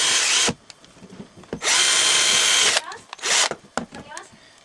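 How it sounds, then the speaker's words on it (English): Electric drill boring a hole for a switch in a model car: three bursts of high whirring, a short one, a longer sustained run, then a brief final spin, with quiet clicks and handling noises between. "And I'm also going to drill a hole here for the switch."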